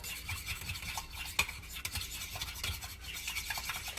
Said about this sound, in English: I'm just gonna stir that up